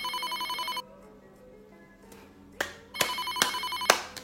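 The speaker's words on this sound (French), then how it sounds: "Non mais, téléphone qui sonne." Electronic telephone ringtone pulsing rapidly in a steady tone, then cutting off and giving way to sharp clicks and knocks, fairly close.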